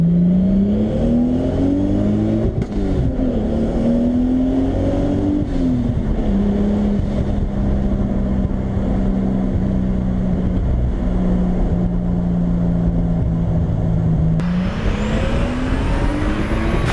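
A Toyota MK3 Supra Turbo fitted with a methanol kit runs steadily and loud, its engine tone rising and falling with revs and then climbing sharply near the end, with no talk over it.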